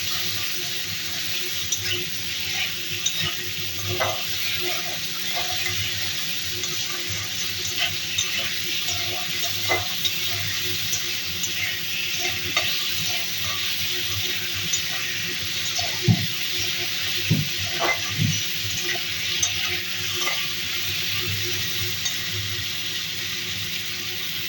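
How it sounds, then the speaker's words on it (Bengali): Salted potatoes fry in a pan, a low continuous sizzle with occasional stirring and utensil clinks over a long stretch. "আলু ভাজা হয়ে গেছে"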